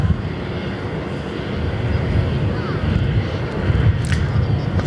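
An airliner taking off from runway 03 at Perth Airport, a broad, steady engine roar that grows slightly in strength, heard from a distance with wind buffeting the microphone.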